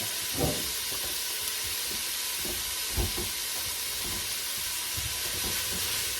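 Peppers for pepper steak sizzle steadily in a hot pan, a constant close hiss with soft scraping thumps of stirring every second or two, no talking.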